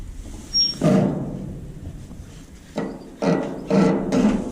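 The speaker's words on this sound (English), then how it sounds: "just gonna have to hammer that down" A handful of dull, close hammer strikes on a metal part of a John Deere 224 header land in two bursts, first a single blow, then a quick cluster of three, with quiet gaps between.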